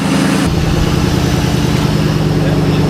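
A Ford Cobra's engine fitted with a cold air intake idles loudly and steadily up close, a continuous low rumble that carries on without a break after a brief burst at the start.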